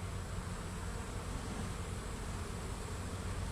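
Honey bees hum around a hive in a dense, constant buzz, faint and steady throughout with no breaks.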